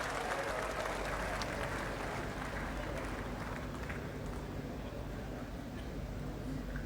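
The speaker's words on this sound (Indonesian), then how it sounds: "Bu Titi Soeharto juga mendapatkan tepuk tangan yang meriah." Sustained applause from a large crowd at an inauguration, dense and steady throughout, with a murmur of voices mixed in.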